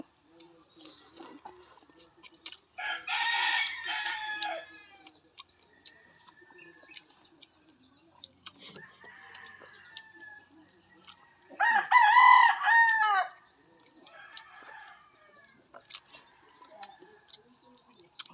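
Rooster crowing twice at a distance, two separate drawn-out calls with quiet stretches between, faint talk heard under and between the crows.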